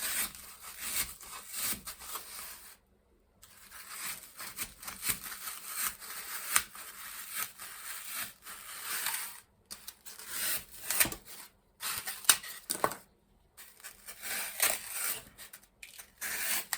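Oasis knife slicing through floral foam while rose gift box shapes are cut out, a close dry rasping and rubbing that runs in steady strokes with a few brief pauses.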